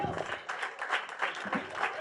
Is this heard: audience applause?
yes